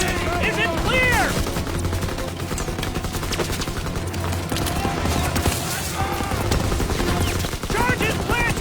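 Rapid machine-gun bursts in a video game, steady and loud across the whole stretch, mixed with other game sounds and shouted voices at the start and end.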